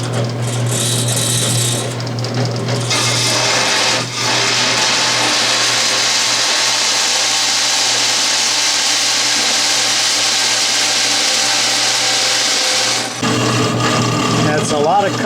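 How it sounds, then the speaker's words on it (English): A bandsaw cuts through a large piece of stock in a workshop, giving a loud, steady, continuous grinding whine with a low hum that runs for most of the stretch, then stops abruptly near the end. "This is a rather large and clumsy piece to feed through the bandsaw at this time"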